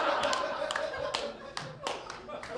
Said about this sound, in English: round of applause for that stimulating, very stimulating judging